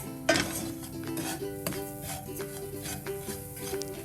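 Sugar being stirred into a sweet snack mixture in a bowl, with a spoon scraping and clinking against the dish in steady, close strokes and no one talking.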